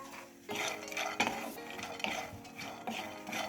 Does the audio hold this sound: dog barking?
no